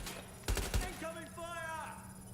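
Gunfire in the Watch Dogs: Legion video game, a couple of sharp shots in quick succession followed by tonal electronic game effects, with speech-like sounds over a steady hum.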